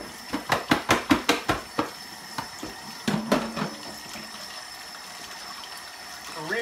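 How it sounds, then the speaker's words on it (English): Hot water runs from a tap into a kitchen sink while a juicer is being cleaned, starting with a quick series of clattering knocks and splashes, then settling into a steady, moderately close rush of water. "So while the water is running, just put it there, let it get hot underneath that."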